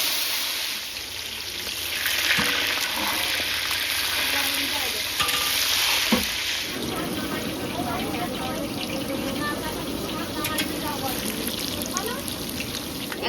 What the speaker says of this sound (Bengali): একদিকে আলু ভাজা চলছে